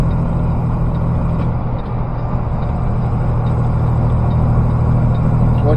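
Steady road roar of vehicles on Interstate 81 northbound near Fancy Gap, Virginia, with trucks passing close by; a continuous loud rumble and tire hiss runs through the whole stretch without any talk.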